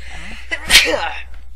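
A single sharp sneeze from a character in the video game Eternal Sonata, bursting loud and brief mid-clip, with a short breathy intake before it and some game voice chatter around it.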